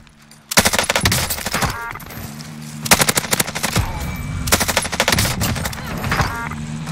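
Bursts of rapid automatic gunfire from the video game Call of Duty Warzone come in three loud volleys, with quieter shots between them and little talk.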